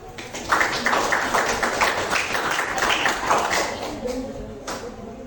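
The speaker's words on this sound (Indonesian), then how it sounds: "Ayo kita kasih tepuk tangan dulu." Classroom applause breaks out as groups prepare to present, a burst of clapping from a small audience that carries on for several seconds before fading, with some talk mixed in.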